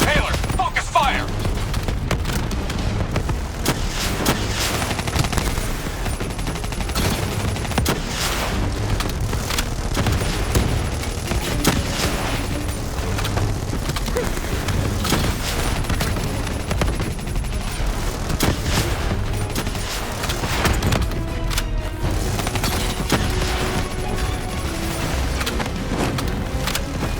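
Gunfire erupts throughout a sci-fi video game battle, with dense overlapping bursts, booms and rapid shots forming a loud, continuous barrage for the whole stretch.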